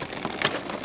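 Rain falls outdoors beside discarded eggs near a dumpster, a short burst of steady pattering hiss with a slight swell midway, no talking.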